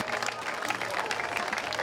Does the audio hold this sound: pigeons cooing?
no